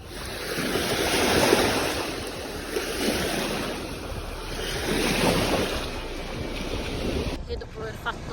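Baltic Sea waves washing onto the shore near Kaliningrad on a hot day, a steady broad surf roar with wind buffeting the microphone, swelling and easing throughout.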